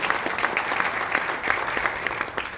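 Steady applause from a crowd at a Gyeongnam Korean medicine association general assembly as guests are introduced, a dense continuous patter of many hands, even in level and fairly close throughout.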